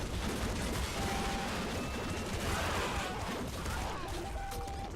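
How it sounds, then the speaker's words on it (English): A super plasma cannon in the game Nuclear Throne fires in a dense, continuous roar of crackling blasts and booms. The loud barrage keeps a steady level for the full five seconds, with no talk over it. "Let me shoot my bargain bin super plasma cannon."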